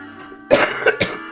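A person coughs twice, sharp and close, with a brief pause between the bursts.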